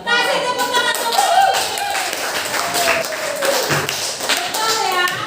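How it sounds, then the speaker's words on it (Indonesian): Children in a classroom clap their hands together in a loud, fairly rhythmic burst of claps that continues throughout, with young voices mixed in. "Kasih tepuk tangan dulu."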